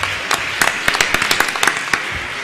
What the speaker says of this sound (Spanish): un aplausito también